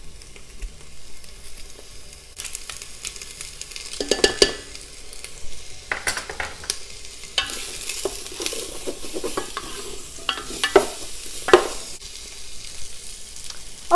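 Crushed garlic sizzles in a hot pan for a fresh tomato sauce, with a steady fry beneath repeated scraping stirs and occasional utensil knocks against the pan.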